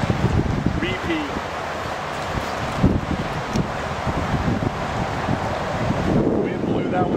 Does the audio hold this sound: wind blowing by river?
yes